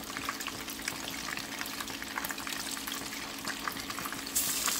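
Breaded fish pieces frying in hot cooking oil, a dense continuous crackling sizzle close by, with a brief louder surge of bubbling near the end and no speech.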